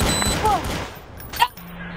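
Gunfire erupts during a Phoenix police bodycam incident as a suspect flees down an alleyway, a quick burst of shots mixed with shouting voices and radio chatter, with one sharper crack standing out near the end.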